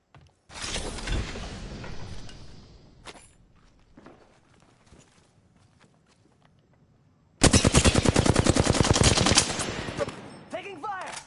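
Video game gunfire: a long burst of rapid automatic shots, then scattered single shots and clicks, then a second, louder sustained burst of fast, loud fire.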